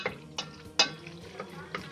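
Pasta stirred through tomato sauce in a pan, with wet squelching scrapes and a few sharp utensil knocks against the metal, fairly close.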